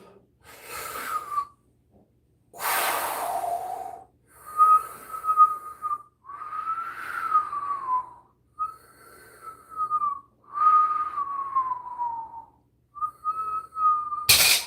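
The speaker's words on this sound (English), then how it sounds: "I inhaled and it whistled." A man's breath whistles as he inhales, giving a series of thin, wavering whistle tones in short separated bursts. Breathy snorts and gasps sit between them, all close and fairly loud, with no talking.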